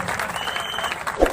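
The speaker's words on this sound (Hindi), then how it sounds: "ताली की गूंज" A crowd claps through a half marathon ceremony held by the Jharkhand Youth Federation in Salaiya. The applause is steady and dense, swelling slightly near the end.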